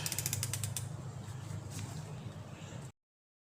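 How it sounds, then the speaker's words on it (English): A torque wrench tightens the sprocket bolts on a Kawasaki Versys 650. A quick run of close ratcheting clicks comes first, followed by a steady mechanical grind, and the sound then cuts off abruptly. "We'll hit them with the old torque wrench, 44 pounds"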